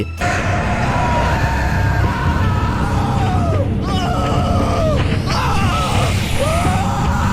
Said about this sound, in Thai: เสียงกรีดร้องก็ดังกังวานไปทั่วแมปแ ละภาพสีแดงฉาน